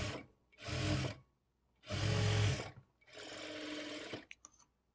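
A sewing machine stitches a blouse lining with a 1/4 inch margin, running in three steady whirring bursts with short pauses between them, then a few light clicks at the end.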